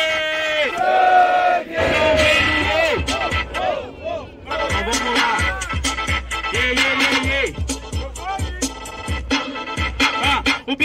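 A rap battle crowd in Itaquera roars and shouts together in loud, repeated bursts, chanting and yelling over a thumping beat, with the chorus of voices surging and dropping throughout.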